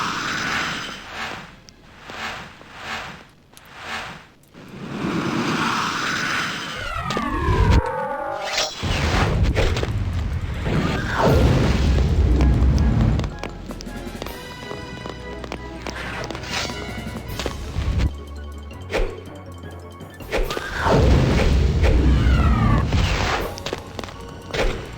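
Fire and explosions in the DOS game Ultima VIII: Pagan: repeated booming blasts and crackling bursts, with sweeping tonal effects and thuds between them, loud and close throughout.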